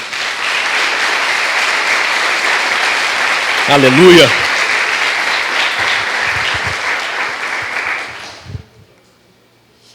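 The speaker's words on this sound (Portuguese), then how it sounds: "Você pode aplaudir o nome dele?" A church congregation claps loudly and steadily for about eight seconds, with a voice rising briefly over the clapping midway, before the applause fades out quickly into near silence.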